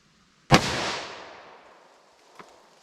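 A single sharp .45 Super pistol shot fired at an outdoor range over a chronograph cracks loudly, then trails off in a long fading echo, with a faint click near the end.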